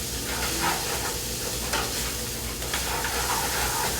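Rice grains toasting in a hot pan before liquid is added, a steady soft sizzle with faint scraping and stirring throughout, moderately quiet and close, with no voices.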